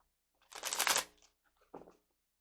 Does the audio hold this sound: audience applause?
no